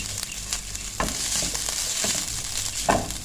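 A chicken nugget mixture sautés in a pan, with a continuous close sizzle broken by several sharp scraping stirs of a spatula, no talking.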